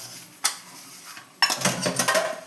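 Clattering of dishes and cutlery: a sharp clink, a pause, then a busy run of scraping and clanking pots and utensils, close by.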